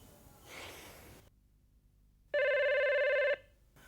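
A breathy rustle fades out, followed after a pause by a single loud electronic telephone ring lasting about a second, close by.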